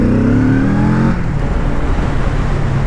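A Kawasaki Z650RS motorcycle rides through town, its engine note climbing in pitch as it accelerates, then settling into a steady loud hum; no talking.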